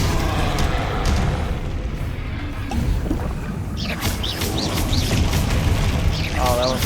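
Hogwarts Legacy battle with a Confringo fire spell blast among other spells, dense booming impacts and rumbling bursts, with chiming magical effects, under a player loudly calling spell names.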